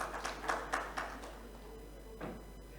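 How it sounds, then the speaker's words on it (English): An audience at an award session in a main hall gives a few quick, sparse claps. The soft claps fade out within about a second, leaving quiet room tone. "please have a round of applause for him"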